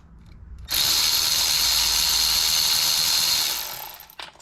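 A power tool loosens bolts on the intake manifold of a Maserati Ghibli, giving a loud, steady mechanical whir for about three seconds that starts abruptly and then winds down, close up and with no talking.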